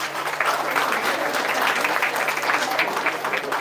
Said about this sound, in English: Yadava Ganesh, S.R. Muhammad, Abhishek Iyer, please clap students.